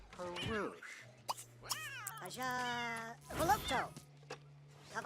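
A cat in The Sims 3 lets out several rising and falling meows, fairly close, over quiet game ambience, with voices talking alongside.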